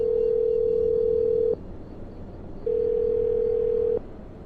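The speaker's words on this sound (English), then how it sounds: "I'm dialing her phone number right now." A steady telephone dial tone plays loud and close in two long stretches, cutting out briefly between them as a call to a radio-show guest is being placed; no one talks.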